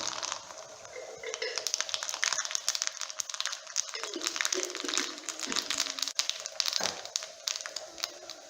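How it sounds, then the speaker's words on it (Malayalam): Mustard seeds go into hot coconut oil, giving a dense, close crackle and sputter of popping that continues steadily throughout. "എണ്ണ ചൂടായിട്ടുണ്ട്. നമുക്കിതിലോട്ട് കുറച്ച് കടുക് ഇട്ട് കൊടുക്കാം."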